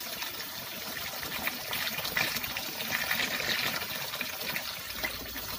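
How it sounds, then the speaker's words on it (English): Water pours steadily into a container being filled to 20 liters for an Epsom salt mixture, a continuous close gushing splash with no talking. "And then just fill it up to 20 liters, and you can stir while you are filling it up."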